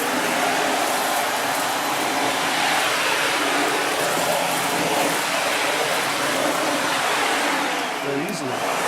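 A Sebo Felix vacuum cleaner runs steadily on a hardwood floor, a loud continuous broadband motor whir held at an even level for the whole stretch, with a brief dip and shifting tone near the end.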